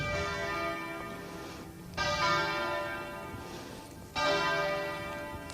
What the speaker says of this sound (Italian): Le campane stanno suonando